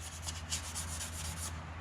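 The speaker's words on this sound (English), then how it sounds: "a little bit more sanding here" Steady scratchy sanding strokes rub over a pickup truck's body panel in a quick repeating rhythm, close and continuous, with a low steady hum underneath.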